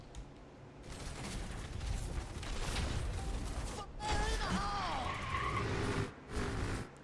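A rolling tire ultimate in the video game Overwatch whirs and skids along amid chaotic battle effects, rising to a louder whining rush partway through before cutting off briefly, with a voice talking in the background.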